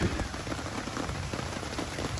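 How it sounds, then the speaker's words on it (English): Steady rain patters on a surface at a backcountry overnight camp in the Middle Prong Wilderness, a dense, even hiss of drops with no thunder standing out in this brief stretch. "The rain has just not stopped. In fact, I think it's getting harder and I hear more thunder in the background."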